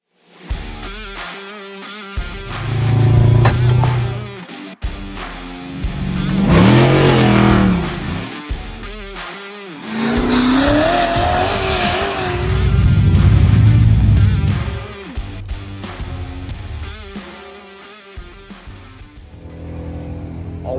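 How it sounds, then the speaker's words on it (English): Off-road race cars at King of the Hammers race through an infield after dark, engines revving and accelerating in several loud, rising passes that swell and fade, with brief gaps between them. "They still have some racing going on in the infield."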